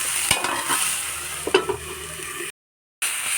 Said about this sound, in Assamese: এয়া ঢাকনখন উদঙাই অকণমান ভাজি দিছোঁ